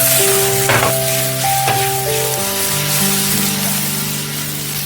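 Onion, capsicum and chilli sizzle steadily in a pan for a soya chilli dish, a continuous close frying hiss with light stirring and no voices.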